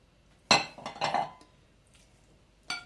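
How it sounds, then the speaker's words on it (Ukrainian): Herring tipped from a container into a bowl for a beetroot salad, giving a sharp clink at first, a couple of smaller clattering knocks, then a final light clink, all close and with no talking. "Висипаємо оселедець."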